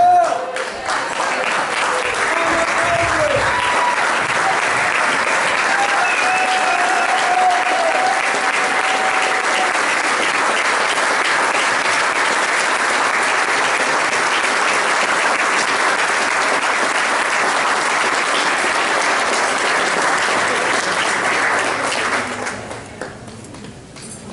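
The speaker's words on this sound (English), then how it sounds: "I think we should all stand and give Anna a standing ovation." Sustained, loud applause from a gala audience on its feet for a standing ovation, dense clapping filling the room for over twenty seconds before cutting off abruptly.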